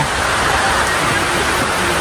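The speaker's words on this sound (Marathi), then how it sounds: "पाऊस आलेला आहे." Heavy rain pours down in a steady, dense hiss that stays loud and unbroken for the whole stretch, with no voices over it.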